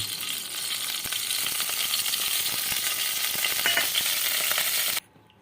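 Oil sizzles and crackles in a wok after frying tangra fish, a steady bright hiss with scattered pops and light clinks, cutting off abruptly near the end.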